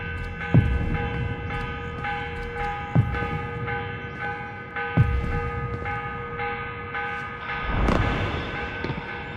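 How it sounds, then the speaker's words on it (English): A morning bell in Assassin's Creed Revelations strikes at steady intervals, about every two seconds, each ring fading over a low constant hum, with a louder, rougher swell near the end. "The morning bell. God, I hated that. Ringing 5 days a week just before dawn."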